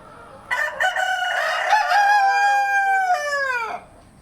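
A single loud rooster crow rings out close by, long and drawn out, then stops.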